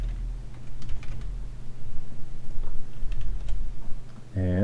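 Code is typed on a computer keyboard in a rapid run of close, crisp key clicks, steady throughout, before a voice begins speaking at the end.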